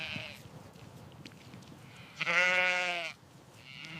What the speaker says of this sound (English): The sheep graze peacefully in the meadow.